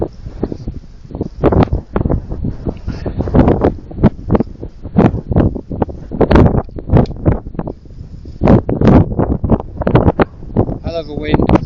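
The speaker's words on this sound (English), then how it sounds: "hell of a wind" Strong gusting wind buffeting the microphone at an outdoor shooting range, coming in loud irregular bursts and rushes one after another throughout, with a voice speaking faintly in a few spots.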